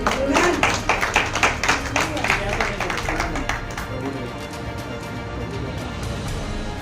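A church congregation claps together in a burst of quick, irregular claps that gradually thin out and fade over several seconds, with faint voices underneath.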